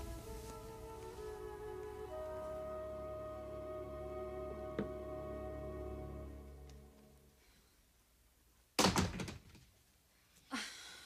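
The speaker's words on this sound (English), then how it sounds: "If you slam that door any harder" A door slams shut in a 1990 television soap opera scene. A long low droning tone fades out first, then comes a sharp loud bang followed by a second thud near the end.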